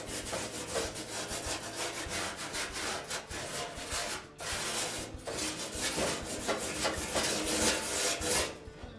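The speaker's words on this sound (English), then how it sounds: "we'll take a wire brush and just clean off the" Wire brush scrubbing leftover old seal material off a Whirlpool dryer lint trap housing, a steady close rasping with rapid back-and-forth strokes, continuous with only brief pauses.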